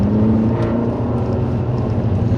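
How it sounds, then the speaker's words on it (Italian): An Abarth 595 accelerating hard, a loud, steady engine drone with a rising tonal whine, heard from inside the car for a few seconds with no talking. "E si sente proprio il differenziale davanti che lavora."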